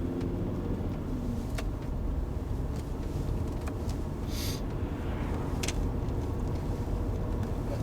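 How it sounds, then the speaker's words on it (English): Car cruising steadily at 30 km/h on a flat road, a faint continuous low rumble of engine and tire noise with a few small ticks, no talking. "I'm going to set up the car in cruise control."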